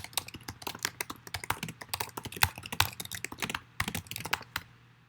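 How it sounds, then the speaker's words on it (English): Fast typing on a computer keyboard: a dense run of crisp, close keystrokes with brief pauses, played alone with no voices. "right now I'm pressing the letter F on my keyboard"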